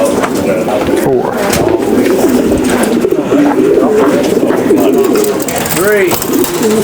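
Racing pigeons coo and flutter in a dense, continuous, close chorus at a club basketting for a 430-mile race in San Antonio, with people talking intermittently underneath.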